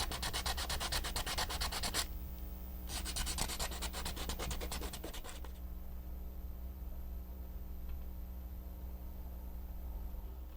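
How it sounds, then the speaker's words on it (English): Sandpaper wrapped on a popsicle stick rubs back and forth over a small model part in quick, steady scratchy strokes, loud and close, with a short pause and a gritty hiss running throughout. "Popsicle stick with a sandpaper"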